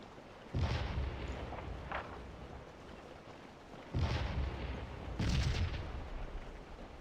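Artillery fire in the Civil War strategy game Scourge of War: deep booming cannon shots in distinct bursts, a heavy blast near the start and two more around the middle and end, over a constant low rumble.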